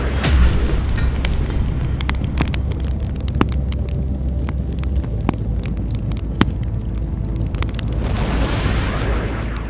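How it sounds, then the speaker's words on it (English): A cinematic explosion effect of two huge planets colliding rolls as a loud, sustained roaring rumble with scattered crackling bursts, swelling briefly near the end, with no voices. "imagine two huge planets crashing into each other, creating a spectacular explosion of cosmic energy"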